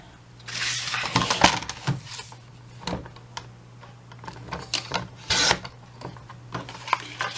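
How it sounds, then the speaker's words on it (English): Paper being trimmed to height on a paper trimmer while crafting a gift card holder: quiet scraping, rasping strokes and small clicks in irregular bursts, close and faint, with no talk. "I've already cut the width that I need, and now I'm going to trim the height."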